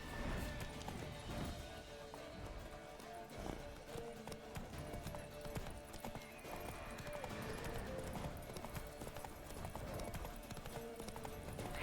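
Geralt's horse Roach gallops in Witcher 3, hooves clip-clopping in a fast, continuous rhythm over rough ground, fairly quiet and close, with occasional knocks.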